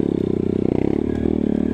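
A Honda CRF 230 dirt bike engine revs hard and steadily up a muddy trail, a close, loud, buzzing drone with clattering underneath and no pauses.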